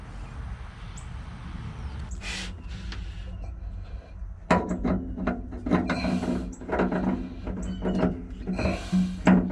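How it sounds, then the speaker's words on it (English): A pen or marker scratches out a date on an outboard engine's fuel filter, making close, uneven rubbing and scraping strokes after some quieter handling noise. "I'll write the date on here."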